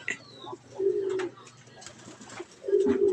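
A pigeon coos twice, low soft rolling calls with a short pause between, close by in a quiet space.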